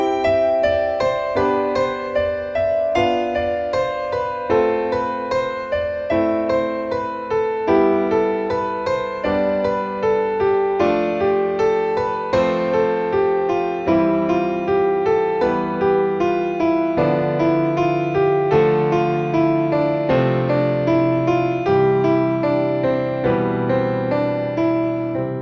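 Piano plays a steady series of sustained chords, the left-hand lower notes stepping downward from chord to chord, loud and close with no voices.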